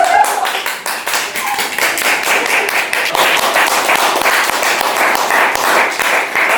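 A live audience claps steadily in a dense, sustained burst of many hands, loud and continuous throughout with no voices on top.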